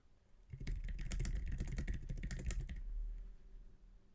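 Steady burst of computer keyboard typing while entering text into a file in insert mode, dense rapid key clicks for about two seconds, close and clear, then trailing off into quiet room tone.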